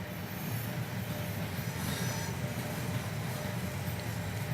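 A simulated Southeastern Class 375 electric train runs on the London Victoria to Faversham line in Train Simulator 2017, giving a steady rumbling roll with wheel noise and faint squeal, continuous throughout and without talk.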